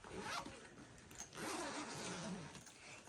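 A bag's zipper being pulled open close by, a raspy ripping sound lasting a few seconds with brief pauses, faint and without talking.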